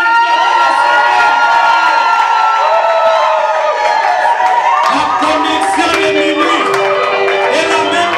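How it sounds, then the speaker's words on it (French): A church congregation at a midnight evangelical service erupts in loud, sustained shouting and cheering for joy, many voices overlapping with whoops and scattered clapping throughout. "Est-ce que quelqu'un peut se lever et pousser des cris de joie?"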